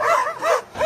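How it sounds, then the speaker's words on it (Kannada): A dog barks and yelps in short bursts in a Kannada comedy sketch, fairly loud and close, with no talk over it. "ಅದೇ ಅನ್ಕಡೆ ನಾಯಿ ಬೋಳ್ತೈತಲ್ಲ ಅಂತ"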